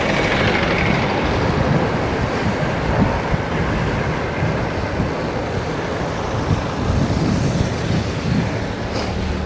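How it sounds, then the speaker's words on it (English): A tram in Croydon rumbles past nearby with a steady rolling roar and faint rattling, broad and continuous over several seconds. "Tram action in front."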